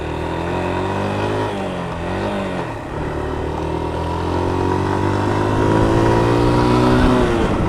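A Yamaha YBR125 Custom motorcycle's small single-cylinder engine revs loudly and continuously up close, pitch dipping at a gear change, then climbing steadily as it accelerates along a back road.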